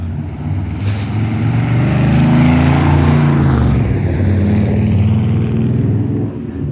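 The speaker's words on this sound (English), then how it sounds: "Oh my gosh, y'all, look at this awesome car coming down." A black and chrome car cruises past on a road beside a garden, its engine noise swelling steadily, peaking midway, then fading as it moves off, with no talk over it.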